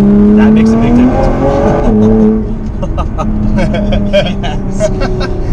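Nissan GT-R R35 with aftermarket downpipes, its exhaust droning and rising in pitch as the engine revs from inside the car, with voices talking over it.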